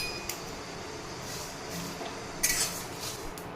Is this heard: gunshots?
no